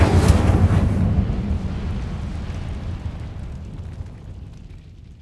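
A fire spell cast in Hogwarts Legacy on PS5 bursts with a loud, roaring whoosh at the start, then decays into a long rumbling tail that fades out over several seconds, with no one talking.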